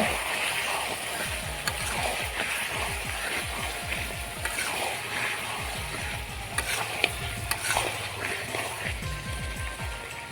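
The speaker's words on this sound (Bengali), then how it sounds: "এখন ঢাকনাটা তুলে একটু নড়ে নেব" Chicken and potato curry sizzling and frying in a pan, with gentle stirring and scraping over a steady crackling hiss, close and moderately quiet, without speech.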